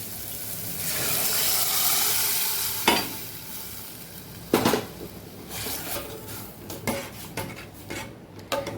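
Boiled dal goes into a pan of well-sautéed masala for Kathiyawadi dal tadka, with a loud sizzling hiss at first, then sharp spoon clinks and scrapes against the pan as it is stirred.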